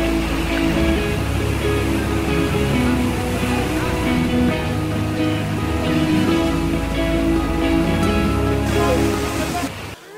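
Sangardak Waterfall pours in a steady, dense rush of water that holds at an even level throughout, loud and close.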